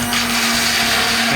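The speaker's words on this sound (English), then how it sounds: "We're gonna stick the blender until the bottom of the glass" An immersion blender whirs in a glass blending homemade chorizo mayonnaise, a loud, close, constant motor drone with a steady high hum and no pauses.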